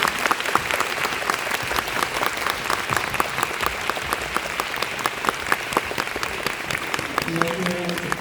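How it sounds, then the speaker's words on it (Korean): Audience at a Busan International Film Festival screening applauds as the director comes on stage, dense sustained clapping throughout, with a brief voice over it near the end. "큰 박수로 맞이해 주시기 바랍니다"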